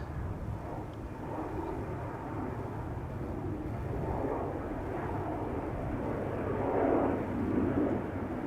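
German Airways airliner taking off from Schiphol's Polderbaan runway, a steady broad engine roar that swells louder toward the end, heard at moderate distance with no talk.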